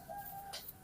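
A new pigeon kept for training gives a single soft, brief coo, quiet and close.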